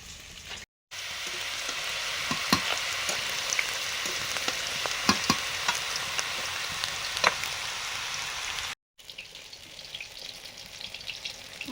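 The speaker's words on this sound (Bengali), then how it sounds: "আর এটা চিংড়ি মাছটা ভাজছি" Prawns frying in a pan, a continuous close sizzle and crackle of hot oil with scattered sharp pops, running for several seconds before short breaks and a quieter stretch of frying.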